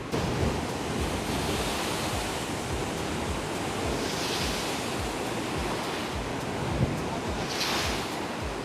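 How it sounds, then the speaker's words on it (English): Big ocean waves crash against the rocky shore at Devil's Tears on Nusa Lembongan, a constant heavy roar of surf with wind buffeting the microphone and a couple of louder surges as swells break. "there's another big wave coming in"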